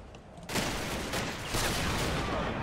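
Gunfire in a war video game: a sudden, loud, sustained fusillade of overlapping shots and rattling bursts starts after a brief quiet lead-in and fills the rest of the clip.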